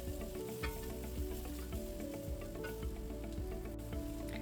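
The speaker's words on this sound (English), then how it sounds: "add 2 heaped tablespoons of tomato paste to it. Mix it well and then roast it for another 2 minutes." Browned vegetables and tomato paste roast in a pot for a bean stew, giving a steady close sizzle and crackle with faint stirring scrapes throughout, no voices.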